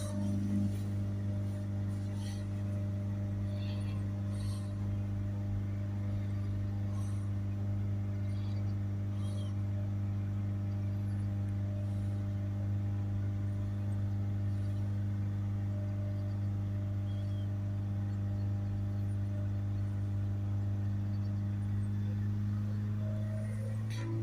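Car engine held steady at about 3000 RPM during a diesel particulate filter check, a continuous droning hum with strong steady tones, no revving changes, loud and constant throughout.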